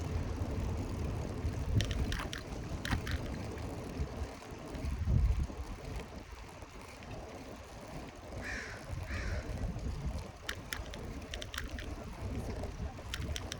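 Cold wind gusting across the microphone outdoors at Stanley Park, a steady low rumbling buffet through the whole stretch with crows cawing now and then in the distance.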